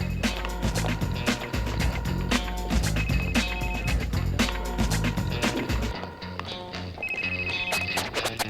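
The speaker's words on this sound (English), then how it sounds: "Come on, Johnny, pick up" A telephone rings repeatedly in steady, evenly spaced bursts while waiting for pickup, loud and close over a dense musical bed with no talking.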